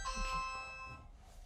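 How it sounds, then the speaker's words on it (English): A smart doorbell chimes indoors with bright tonal notes that ring and fade over about a second and a half, fairly faint under a low background hum. "Sorry, that was the doorbell."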